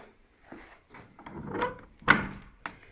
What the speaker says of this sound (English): Oh, it's a heavy door.